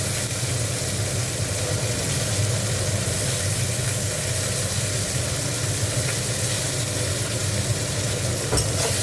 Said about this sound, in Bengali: টমেটো আর পেঁয়াজটা একটু ভেজে নিই।